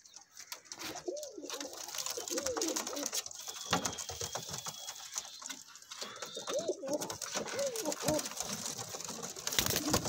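Golden pigeons coo repeatedly in soft, rolling phrases against a busy background of rustling and scattered clicks, several birds overlapping at moderate distance at a pigeon sale in Amritsar.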